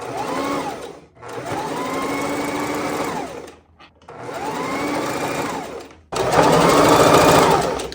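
A sewing machine stitches a rolled hem on a spring off-the-shoulder top. It runs close and loud in three long bursts, with short pauses between them, then speeds up to a brighter whir.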